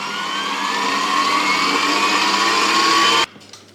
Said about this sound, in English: just turn it right up and give it a real good whisk for about a minute